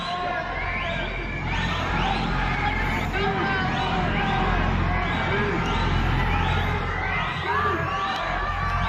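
A large crowd at a Portland street protest cheers and shouts, with repeated rising whoops and a dense babble of voices, loud and close throughout.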